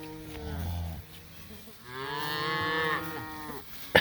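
A cow moos for its missing calf in a tall-grass pasture during a cattle drive, two drawn-out, fairly near calls with a short pause between them and no talking over them.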